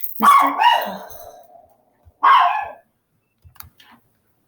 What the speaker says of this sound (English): oh, sorry about my dog.